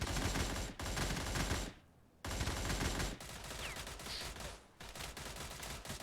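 AN-94 Abakan rifle firing in a video game, dense loud bursts of rapid shots in three main stretches separated by brief silent gaps, no voice.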